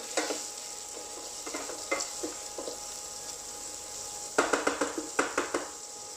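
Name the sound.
seafood cooking quickly in a pan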